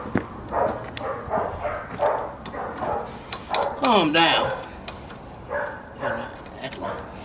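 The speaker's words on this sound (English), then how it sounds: "I'm not having a barking battle." Rottweilers in a kennel give short barks and yips in bursts over roughly seven seconds, fairly close, mixed with a person talking throughout.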